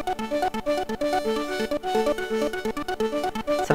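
Arturia PolyBrute synthesizer playing a fast, rhythmic sequenced pattern of bright harmonic notes with a steady modulated pulse, heard alone and close with no talking.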